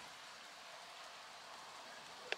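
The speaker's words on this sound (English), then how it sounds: "it's been raining all day and it has been properly chucking it down" Faint, soft rain patters steadily in the background, a quiet even hiss with a single small tap near the end.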